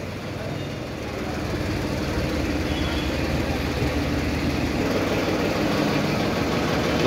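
A Farmtrac 45 tractor, built in a Ford 3600 style, idles nearby with a steady low diesel throb that swells slightly louder and holds an even, continuous chug.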